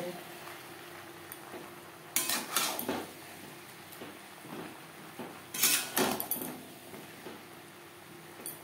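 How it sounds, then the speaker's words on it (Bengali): A spoon stirring potatoes and soybean chunks with spices in a pan for soybean curry: scraping and clinking strokes against the pan in two louder bursts over a steady low sizzle. "মশলার সাথে আলু ও সয়াবিন বেশ ভালো করে মিক্স করে দেব।"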